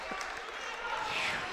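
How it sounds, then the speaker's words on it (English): Crowd noise at an NCAA men's college basketball game, Mount St. Mary's versus Loyola Maryland: a broad, steady roar of cheering fans filling the arena, swelling slightly toward the end with an announcer's voice over it. "And the crowd roars."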